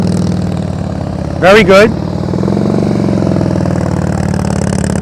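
A motorcycle engine runs at a steady, constant throttle during slow-speed riding practice, giving a continuous mid-pitched drone. A person speaks briefly partway through.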